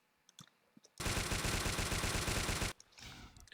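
An M60C machine gun fires one sustained automatic burst in Garry's Mod, loud and close, with a rapid, steady rhythm that lasts almost two seconds and then cuts off into quiet.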